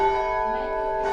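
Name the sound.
bells ringing in the Perth bell tower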